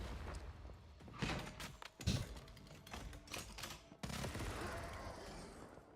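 Crossbow shots in the video game Once Human, a few sharp transient hits scattered among game noise, with a louder impact around the midpoint and a denser rush of sound toward the end.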